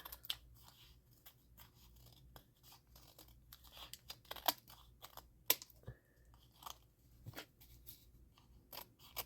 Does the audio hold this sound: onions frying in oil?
no